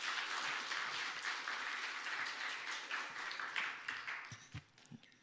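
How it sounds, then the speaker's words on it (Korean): A church congregation at a Sunday afternoon worship service applauds to welcome a visiting pastor, steady clapping that thins out toward the end, leaving a few scattered claps and light room noise. "여러분 나오실 때 여러분 박수로 여러분 격려해 주시면 감사하겠습니다"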